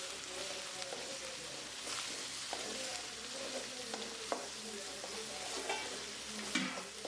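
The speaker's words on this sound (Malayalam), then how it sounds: "നന്നായിട്ട് വഴറ്റി കൊടുക്കുക." Ginger and garlic paste sautéing in a pan, a soft continuous sizzle with intermittent scraping stirs and small clicks, quiet and close, with no voices.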